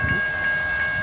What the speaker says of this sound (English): we have a train here at Stearns Road on the CSX Saginaw sub